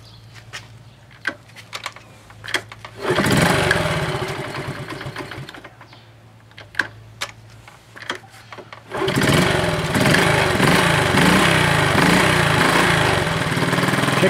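A 1971 Honda CT70 small motorcycle engine, fitted with new fuel lines and clutch plates, kicked over with clicking strokes, then catching and running in a steady buzzing idle, close and loud, twice in succession.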